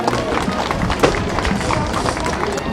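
A crowd at a street parade claps for a pony club passing in traditional costume, heard as dense, continuous applause mixed with crowd noise and indistinct voices, steady and fairly loud throughout.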